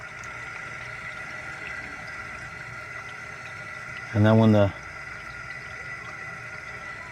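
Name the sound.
water flowing in through RV water filters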